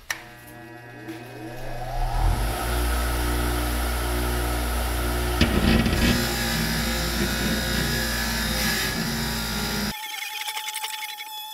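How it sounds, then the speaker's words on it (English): A power tool fitted with a wire wheel spins up and whirs continuously against a trailer spindle during hub and bearing work, a loud steady buzz with scraping texture that cuts off abruptly near the end. "wire wheel this here"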